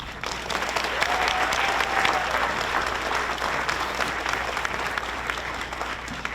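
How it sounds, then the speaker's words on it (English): Steady, dense applause from a large crowd at a retirement ceremony, sustained loudly throughout with a few cheers mixed in. "Clap your hands for this Newark-born native, Rufus Jackson."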